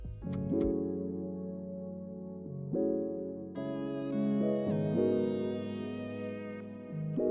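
A smooth synthesizer lead plays a gliding melody with sustained notes and slides, moderately loud and alone, with a touch of echo.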